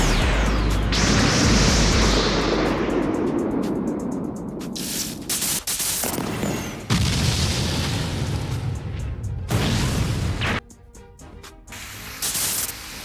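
Six King Pistol attack blasts in a One Piece anime fight scene land as a loud, sustained roaring explosion, followed by several heavy booming bursts and crackling debris, with no talking.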